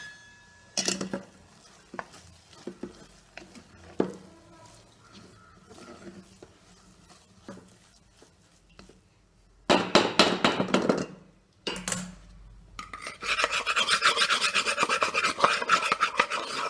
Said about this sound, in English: I'm using another spoon to actually remove all of that